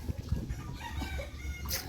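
A rooster crows amid a busy chicken farm, with clucking hens and other fowl chattering close by.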